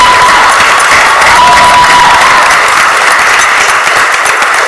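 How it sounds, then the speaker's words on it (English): An audience at a Philadelphia City Council stated meeting applauds loudly and steadily throughout, a dense, close wash of clapping with a few faint cheers mixed in. "Let's give them all a round of applause."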